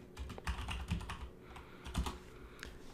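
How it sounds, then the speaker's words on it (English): Close, quiet clicking of a computer keyboard at a Windows command prompt, with irregular clusters of keystrokes and short pauses between them. "you're going to want to type disk part, all as one word"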